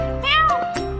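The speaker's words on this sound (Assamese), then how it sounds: "মেকুৰী কেট" A cat gives a single short meow, close and clear, lasting under a second in an indoor home setting.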